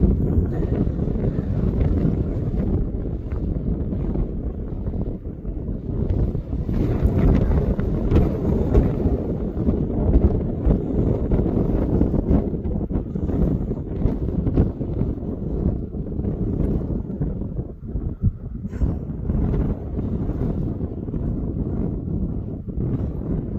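Strong wind batters the microphone on the side of Parlick Hill in Lancashire, a continuous loud roar with gusting rumbles and no pauses.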